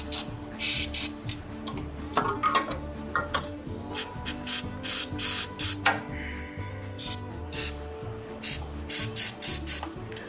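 Short repeated hissing bursts of penetrating fluid sprayed from an aerosol can onto the linkages of a Kubota MX5100 tractor, close and fairly quiet, with small clicks between sprays.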